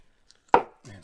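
One sharp cut as a long knife slices through a pig carcass during butchering, a single close thud with a brief scrape and then quiet.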